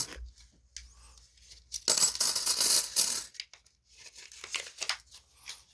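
Coins from a freshly opened roll of Korean coins spill out in a quick clattering burst of metallic jingling and rustling, with softer scattered clinks and handling afterward; no one speaks.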